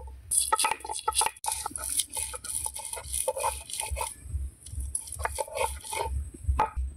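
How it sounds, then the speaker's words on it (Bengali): Garlic being ground on a stone grinding slab (shil), a rhythmic series of scraping, grinding strokes in quick repeated bursts, close and fairly quiet, with no talk heard. "এবার রসুনটা বেটে নিচ্ছি আমি।"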